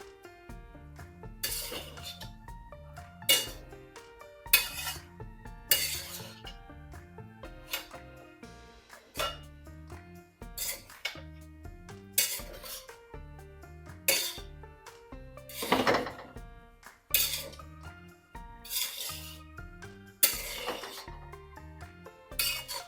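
Potato rice being stirred and mixed in a metal pan, with repeated clinks and scrapes of a spoon against the pan in a loose, uneven rhythm, close and fairly quiet with no talk.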